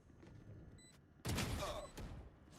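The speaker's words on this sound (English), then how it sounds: "Some shots exchanged." Gunfire exchanged during a competitive Valorant esports match, a sudden loud burst of rapid shots followed by another short volley, sharp and close after a quiet stretch.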